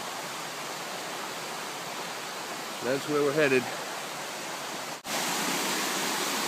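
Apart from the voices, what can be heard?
roar of mountain cascades on Beaver Brook trail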